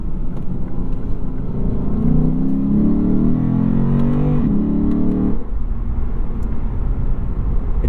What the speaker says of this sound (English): We can rev it all the way up to about 7250. Downshifts are pretty crisp.